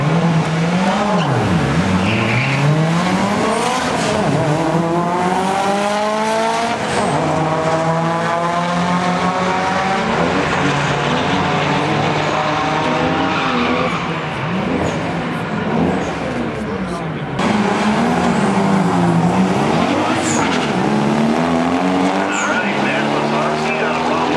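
A Honda race car at an Import Wars drag event revs hard and climbs through the gears, its engine note rising and dropping with each shift, loud and continuous, with occasional tire squeal.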